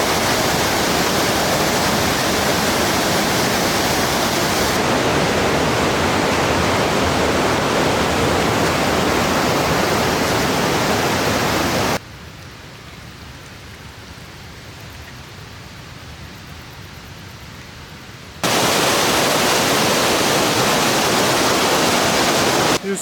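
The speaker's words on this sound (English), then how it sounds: "Only I didn't know the waterfall is so strong" A strong waterfall beside the Schafler Ridge trail in the Swiss Alps roars as a loud, steady rushing wash, dropping briefly to a muffled level before returning at full force.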